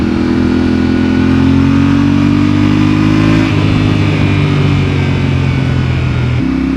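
Yamaha Ténéré 700 motorcycle engine revving up close and loud, a steady strong tone that climbs slightly and then drops sharply near the end.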